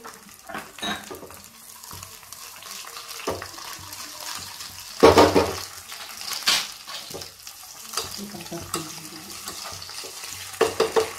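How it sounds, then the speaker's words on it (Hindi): Sliced onions and capsicum fry on low heat in a pan, a soft continuous sizzle with stirring scrapes and a louder clatter midway, close and moderately quiet. "धीमी आंच पर इसे होने दीजिए, और शिमला मिर्च स्लाइस में कटी हुई डालिए।"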